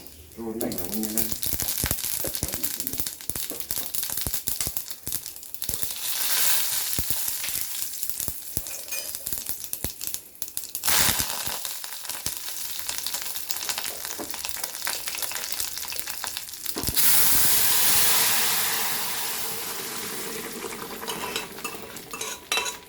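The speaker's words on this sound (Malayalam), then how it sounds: "അപ്പം ഇനി നമുക്ക് കൂട്ടാൻ കൂടി താളിച്ചെടുത്താലോ" Curry tempering crackles and spatters loudly in a steel pan, a dense sizzle with utensil clatter and scraping, swelling into a stronger burst of hissing late on, while a voice talks at times.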